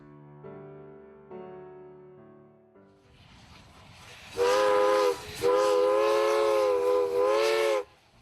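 Steam train on the CPR line gives a long, loud, sustained whistle with a brief break, over rumbling chuffing and rail noise, following a few soft musical notes.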